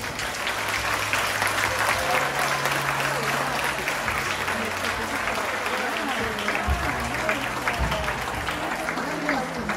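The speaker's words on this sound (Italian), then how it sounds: "dare l'auguri sempre a tutti con questo applauso" A crowd at a legality day event marking a birthday applauds, dense sustained clapping running loud and even throughout, with voices murmuring beneath it.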